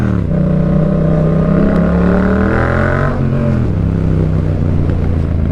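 A motorcycle engine, either an Africa Twin or an MT-07, runs loud and close in rush-hour traffic. It holds a steady drone and rises into a rev before easing back down, with no voices over it.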